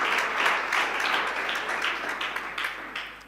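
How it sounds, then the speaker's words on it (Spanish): A church congregation claps loudly together, a dense, steady wash of applause that rises and ebbs slightly across a few seconds, with the applause heard alone. "Dele fuerte al Señor el aplauso que es para Él."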